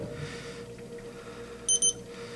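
Two quick high-pitched electronic beeps from a Scorpio I600i two-way FM motorcycle alarm remote as it switches on, close and clear over a quiet room hum.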